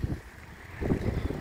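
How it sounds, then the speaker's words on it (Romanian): Wind blowing outdoors beside a parked Dacia 1300 on a cold day, buffeting the microphone in low rumbling gusts that swell and fade over a brief moment, with no talking. "cam bate vântul"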